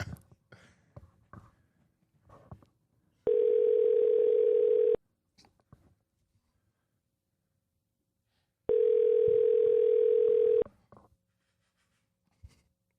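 A telephone ringback tone while a call goes through: two long, steady, loud tones a few seconds apart, with faint rustling and small background noises between them.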